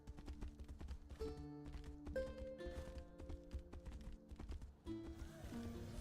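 Horse hooves clip-clop in a steady trot across the fantasy world of the video game Tainted Grail: The Fall of Avalon, mixed with sustained musical tones.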